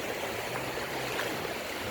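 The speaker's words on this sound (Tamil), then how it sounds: "என் முழங்கால அளவுக்கு எவ்வளோ தண்ணி போயிட்டுருக்கு பாருங்கள் இதான் என்னை இழுக்குது இந்த தண்ணி" Knee-deep floodwater rushes through a flooded street in Madipakkam, Chennai, a steady close, dense flowing roar without pause and no voices.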